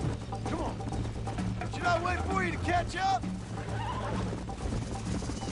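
A horse in the video game Red Dead Redemption whinnies over a steady clatter of hooves, with someone talking in French across the middle of the clip.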